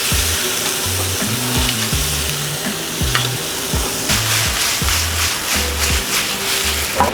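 Freshly made pasta, drained and tossed into a hot pan, sizzles and fries steadily and loudly, with stirring and scraping clatter throughout and no voices.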